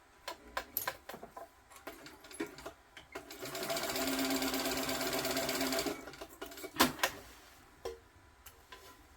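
A sewing machine runs in a steady burst of about two seconds, stitching over a seam on bean bag fabric, with light handling clicks and taps before and after.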